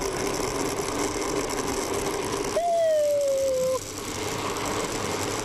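A kitchen blender runs steadily during roast beef sandwich preparation, giving a continuous close mechanical whir, with a brief falling whine near the middle.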